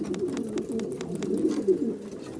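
Racing pigeons coo in low, throaty rolling calls in a loft, several overlapping, close by, with soft rustles and faint flutters in the background.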